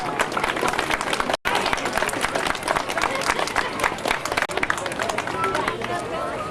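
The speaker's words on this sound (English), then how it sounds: "Let's give them all a big round of applause, please." Steady, dense applause from a crowd at a community winter festival in West Chicago, Illinois, loud, near and continuous with crowd murmur underneath.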